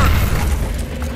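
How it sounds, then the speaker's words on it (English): Grenade blast in Call of Duty: Black Ops, a loud, close boom with a deep rumbling low end that decays over about a second, heard alone. "Grenade."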